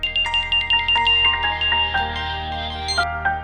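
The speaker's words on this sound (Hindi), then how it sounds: "नेहा से ही फोन करके पूछती हूँ।" An outgoing phone call rings at a moderate level, a run of repeating ringtone pulses and melodic electronic notes sounding alone without any talk.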